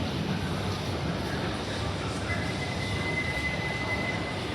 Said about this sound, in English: Oh, I think our train's coming now.